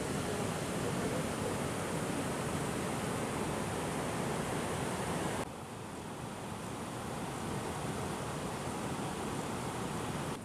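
A small mountain stream flows beneath a bridge along a mountain trail, its rushing water a steady, close, broadband wash that softens slightly halfway through, with no voices.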